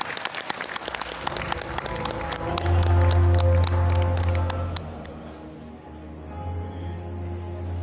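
Audience at a university innovation and business summit in a hotel ballroom applauds warmly, a dense sustained wash of clapping that swells and then eases off over several seconds.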